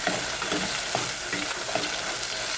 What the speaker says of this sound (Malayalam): ഒരു തക്കാളി അരിഞ്ഞത്, ചെറുതായിട്ട് അരിഞ്ഞത്, തക്കാളി നന്നായിട്ടൊന്ന് വാടിച്ചിട്ട്